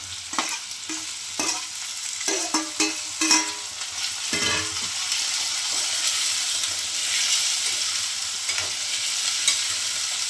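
Chopped onion and ivy gourd (tindora) sizzle in hot oil in a pan, with a run of sharp scraping stir strokes early on, then a steady close frying hiss continuing alone.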